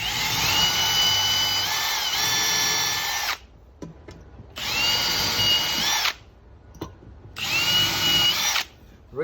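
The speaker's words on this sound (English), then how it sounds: "now we can go through and drill these top ones" A power drill bores screw holes into stainless steel in three long, loud whining bursts, each separated by short pauses, with a high metallic squeal riding the motor.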